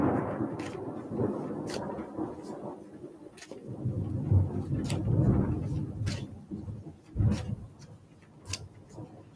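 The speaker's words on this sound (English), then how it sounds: "There's a storm outside, you guys." An outdoor thunderstorm rumbles in low, rolling surges that swell and fade over several seconds. It sounds muffled, as if heard from indoors, with a few sharp ticks or knocks on top.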